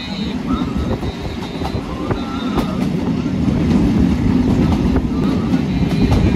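Padma Express train standing or moving at Lalitnagar station, a steady low rumble of wheels and carriages with occasional clicks, continuous and fairly loud throughout.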